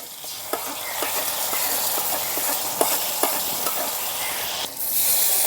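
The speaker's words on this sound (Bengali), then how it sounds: "এখন মশলা দিয়ে কষিয়ে নেব" Ginger, cumin, coriander and dried red chilli pastes sizzling in a pan with fried potatoes, steady hiss broken by sharp spatula scrapes and taps against the metal, close and fairly loud with no talking.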